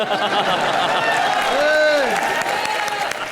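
Studio audience applause fills a live comedy show stage, a dense steady wash of clapping throughout with a voice talking over it.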